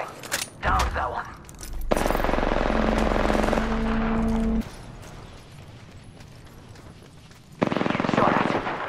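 Automatic weapon fire in the battle-royale game Apex Legends, dense rapid bursts filling the middle stretch with a short burst near the start and another at the end, loud and close, with a voice speaking over parts.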